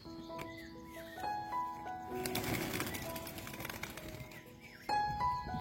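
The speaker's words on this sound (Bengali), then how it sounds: "এদিকে কবুতরগুলো খাবার খাওয়ার জন্য একদম অস্থির হয়ে গিয়েছে।" Pigeons coo softly on a home rooftop, faint and intermittent calls under a wash of outdoor noise and a brief louder rustle in the middle.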